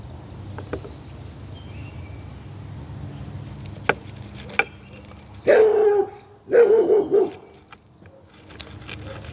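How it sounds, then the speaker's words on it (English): Dogs barking outdoors in a garden during bonsai repotting, two short bursts of several barks at moderate distance, with a few sharp clicks before them and a low steady background. "That's our dogs."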